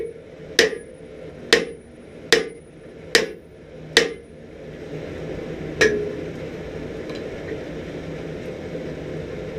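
Hammer blows on metal at an anvil while forging a bending fork for a hardie hole: five sharp, ringing strikes at an even pace, then a single later strike, close and loud over a quiet workshop background.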